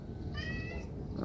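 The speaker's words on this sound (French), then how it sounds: "là, je suis attaqué par un chat." A cat meows once, a short rising-falling call heard fairly close over a steady low room hum, with no talking.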